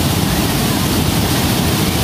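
A river rushes loudly and steadily beside a riverside campsite near Curug Kembar waterfall in Batulayang, Cisarua, Bogor, a constant close roar of water with no pause.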